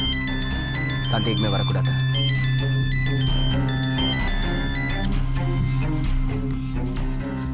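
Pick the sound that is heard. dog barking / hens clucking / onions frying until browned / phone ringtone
phone ringtone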